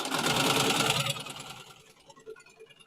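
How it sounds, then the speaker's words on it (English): A Melco Summit embroidery machine stitches on the bill of a hat with a rapid mechanical buzz that runs for about a second, then slows and fades into faint clicks. "we are sewing on a hat. We're sewing on the bill of a hat."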